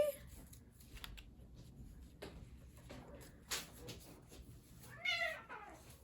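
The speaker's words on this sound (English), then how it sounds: "He's meowing, you pick him up, and it's like, ah!" A cat gives a short, rising meow as it is picked up near the end, after a stretch of quiet room noise with scattered soft rustling and handling sounds.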